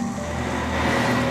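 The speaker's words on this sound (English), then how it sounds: "That's the sound of the ice being shaved off the top of the ice rink." An ice resurfacing machine shaves the top layer off an ice rink, making a steady, loud mechanical drone with a vacuum-like whoosh and humming tones, heard briefly and close.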